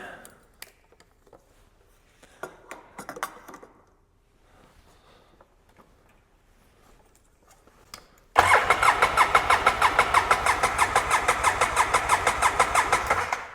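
An ATV engine, running rich, cranks over for a compression test on its left cylinder with the spark plug pulled: after quiet handling noises, a loud, rapid, steady starter-motor chugging begins and continues to the end, close up.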